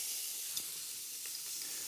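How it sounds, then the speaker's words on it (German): Chopped onions hit a hot pan and fry with a soft, steady sizzle and faint hiss, quiet and close, with a couple of brief crackles and no talking. "Jetzt braten wir mal gleich mal die Zwiebel an."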